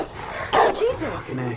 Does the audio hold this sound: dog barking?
yes